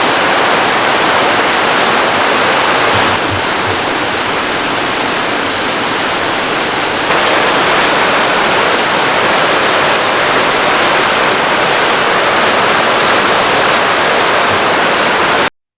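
Sanggi waterfall in a forested valley pours with a loud, steady roar of falling water, continuous and close with no break throughout.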